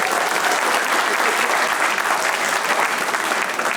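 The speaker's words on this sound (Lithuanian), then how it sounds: "plojimai" Audience applause at a live comedy podcast recording, loud, dense and continuous clapping filling the whole moment without letting up.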